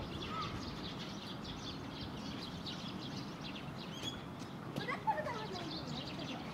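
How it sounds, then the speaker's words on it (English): Faint bird chirps scattered over a steady windy rumble, with distant children's voices in the background. "birds are chirping"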